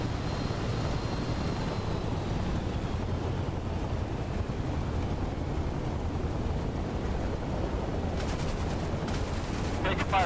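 Sustained gunfire aimed at an aircraft in DCS World, a dense continuous rattle of machine-gun bursts under a steady engine drone, with a brief radio crackle near the end.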